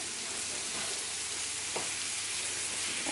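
Potato samosa filling is mixed in a hot pan under a dense, even sizzle, with a faint stirring scrape midway, close and with no talking.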